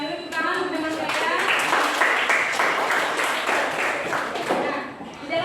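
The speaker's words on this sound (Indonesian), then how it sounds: "Silakan dulu tepuk tangan untuk teman saya." Students applaud a classmate in a classroom, a steady patter of clapping hands that swells in the middle and tapers off near the end, with some voices mixed into the noise.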